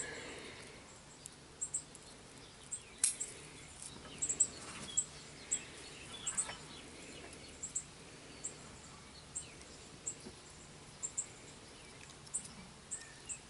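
Nesting birds call outdoors in short, sharp chirps scattered irregularly over a quiet, low background hiss, faint and somewhat distant, with no talking.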